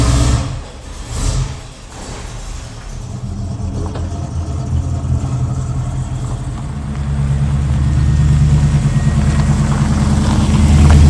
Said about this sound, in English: Hasn't been run in a while, so I'm gonna let it warm up